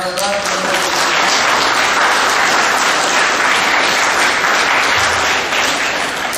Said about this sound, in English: give these ladies a round of applause